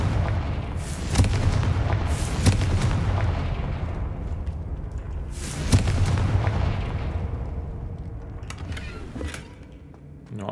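Confringo spells in Hogwarts Legacy burst into explosions, several booming blasts with a rumbling low-end tail that recur across the stretch amid continuous battle noise.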